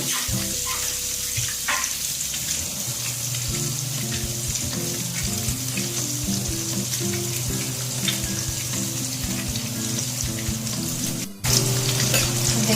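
Eggs fry on a hot tawa with a loud, continuous close-up sizzle and spattering hiss, while background music plays throughout and no one talks.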